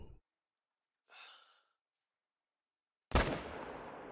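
A single loud rifle shot from a hunting rifle in the video game The Hunter: Call of the Wild, a sharp blast with a rolling decay, preceded by a soft breath and otherwise quiet.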